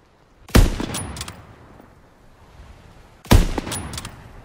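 Two loud, sharp gunshots from the Call of Duty WW2 campaign ring out about three seconds apart, each trailing off in a long echoing tail, with no voices.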